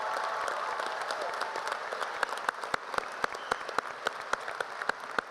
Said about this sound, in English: Hey, another round of applause for Hannah.